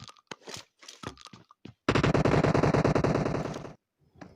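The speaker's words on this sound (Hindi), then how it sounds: "मिडिल से फायरिंग आ रहा होता है, इसलिए फायरिंग का पीछा करते करते मिडिल में चला जाता हूँ।" Automatic weapon fire in a shooting video game: a loud, rapid sustained burst of closely spaced shots lasting almost two seconds, preceded by scattered single cracks and clicks, then a few faint taps after it stops.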